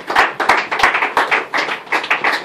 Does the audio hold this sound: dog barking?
no